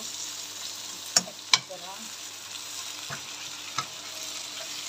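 Half a kilogram of minced meat (qeema) frying in a pan while being stirred: a steady, soft sizzle with a few sharp clicks and scrapes of the spoon, close by, as a voice speaks briefly.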